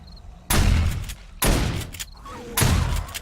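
Three loud shotgun blasts from an upgraded shotgun in 7 Days to Die, spaced about a second apart, each with a sharp onset and a decaying rumble, heard alone without talk.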